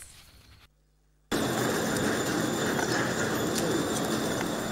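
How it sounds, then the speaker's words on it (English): Wild birds gather at an early-morning feeding spot in a mall parking lot in Nairobi. After a brief quiet gap, a dense, loud, continuous wash of calls and cooing fills the scene. "The sound of the chirping birds welcomes us to this open space."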